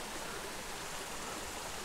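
A mountain creek with cutthroat and brook trout flows in a soft, even rush of water, faint and steady throughout, with nobody speaking.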